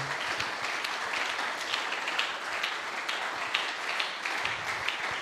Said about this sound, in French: Au nom de Jésus, acclamons le Seigneur.